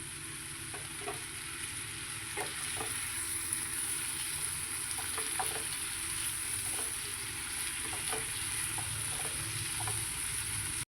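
Salt-boiled peanuts are stirred into ivy gourd frying in a pan: a continuous soft sizzle with scattered light scraping clicks from the stirring, even and moderately close.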